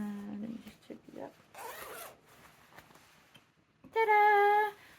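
An invisible zip on a dress is pulled up in one quick, bright zipping run of under a second, close and loud, after a stretch of quiet talking.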